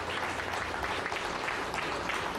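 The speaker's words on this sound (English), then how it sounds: "Let's give her her first round of applause." Television talk-show studio audience applauding a young guest, a continuous even wash of clapping, fairly soft and distant with no talk.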